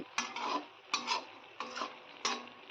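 Spicy dry fish is stirred in a pan with four evenly spaced scraping strokes, each a sharp tap followed by a brief rasp, close and quiet with a faint sizzle beneath.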